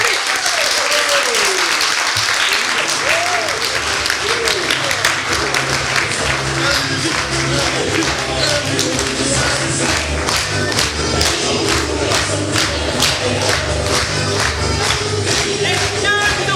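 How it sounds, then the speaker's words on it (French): A theatre audience at an improv show gives sustained, dense applause with scattered cheers and whoops, steady and loud throughout, with a few voices rising above the clapping. "Et bravo! Vous les applaudissez!"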